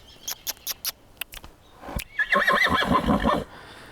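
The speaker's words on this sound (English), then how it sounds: "And you may hear another horse in the background." A horse neighs with a loud, shaky whinny that rises and trembles for over a second, preceded by a series of sharp clopping knocks.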